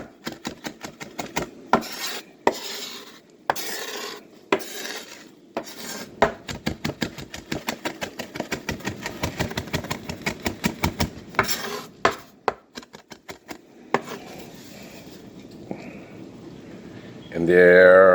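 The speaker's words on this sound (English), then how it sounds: "I'm going to chop it to where it's like almost minced" A knife chops pork tenderloin on a board in rapid, uneven strokes, steady dense tapping and thudding that runs for many seconds with brief pauses and scraping toward the end.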